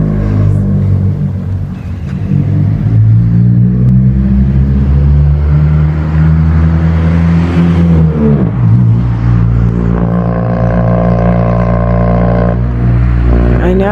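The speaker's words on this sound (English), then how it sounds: "these cars are way too loud." Loud cars driving past near the Central State Hospital grounds, heavy engine rumble and revving swelling and shifting pitch as vehicles pass close by, one after another, with no speech heard.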